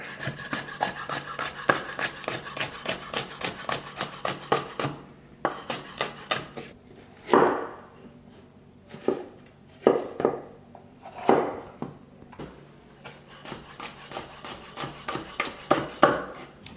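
Quick, even knife chops on a cutting board as the white part of a vegetable is sliced very finely for a choripan, a steady close-up tapping with brief pauses and a few scraping sweeps.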